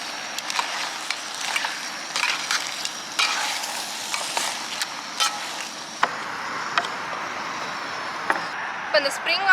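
Crab noodles and vegetables stir-fried outdoors in the desert near an oil well, with scattered utensil scrapes and clanks over a steady sizzle, fairly close, with some voices faintly in the background.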